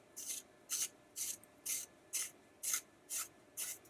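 Lip liner pencil being sharpened, eight quick rhythmic scraping twists close to the ear, faint and evenly spaced with quiet gaps between strokes.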